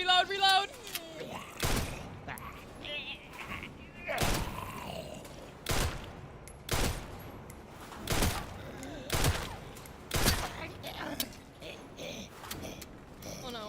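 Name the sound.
gunfire from Resident Evil Requiem video game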